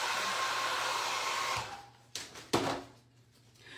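A hair dryer blows on a drop cloth stocking with a loud steady whoosh that cuts off after about a second and a half, followed by a few handling knocks and rustles.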